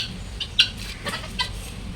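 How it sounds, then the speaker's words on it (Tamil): A few short, faint clucks from a backyard rooster at a rural home after cyclone flooding, scattered over a low background rumble. "எங்கள் வீட்டு சேவல்கிட்ட அடி வாங்கிட்டாரு சுக்குபாய்"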